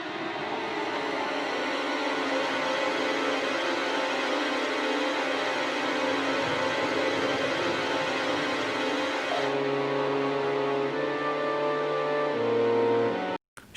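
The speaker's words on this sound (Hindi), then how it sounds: "गुरु ग्रह की आवाज़।" A sonified space recording presented as the sound of the planet Jupiter: a loud, dense, steady drone layered with sustained tones that holds unbroken for the whole stretch and then cuts off abruptly.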